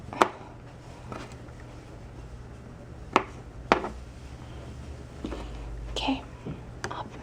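Garlic cloves being chopped on a cutting board in a home kitchen, a few sharp, close knife strikes spaced irregularly against a steady low background hum.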